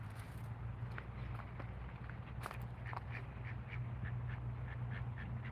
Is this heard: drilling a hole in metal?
no